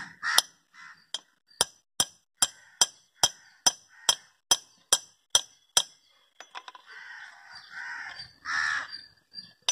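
Axle boot on a TVS King three-wheeler being tapped into place with a large nut, about a dozen bright metallic clinks in an even rhythm, close and clear, then a few scraping, shuffling noises.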